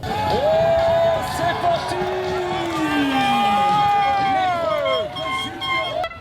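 A huge, dense crowd of spectators fills the air at a cycling world championships, a steady loud roar of voices and cheering with whistles and horn-like tones rising and falling throughout.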